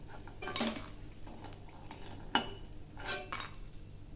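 Fried lentil dumplings (dal bori) are lifted out of a pan of hot oil with a metal utensil: a few sharp clinks and scrapes over faint sizzling, close by and without talk.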